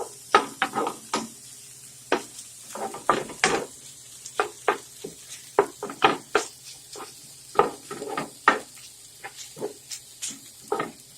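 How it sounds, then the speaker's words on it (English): A spoon scrapes and knocks through a scrambled tofu mixture in a pan, with sharp, uneven strokes repeating steadily for about eleven seconds. It is close and clear with no talking. "Now let's stir these things. We're going to stir nicely."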